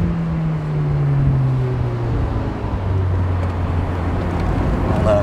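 A car drives along with a steady low engine drone and a gradually falling pitch, mixed with road and wind noise, fairly loud and close inside the cabin.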